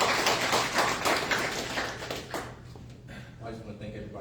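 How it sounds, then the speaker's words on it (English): An audience at a public relations career panel at Indiana University Northwest gives a round of dense clapping that starts strong and tapers off toward the end. "let's give a round of applause to our president, Lewis Williams."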